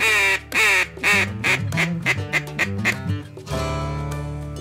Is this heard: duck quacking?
yes